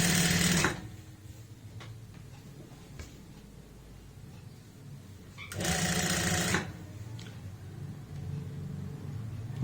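A sewing machine stitching the seat seam of a pair of pants with a half-inch margin, two loud close whirring bursts of about a second each separated by a quiet stretch of faint handling noise.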